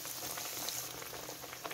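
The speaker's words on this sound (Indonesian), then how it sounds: "Sekarang goreng rotinya guys, proses menggoreng rotinya." White bread filled with boiled egg and vegetables frying in hot oil makes a steady, soft crackling sizzle, close and unbroken throughout.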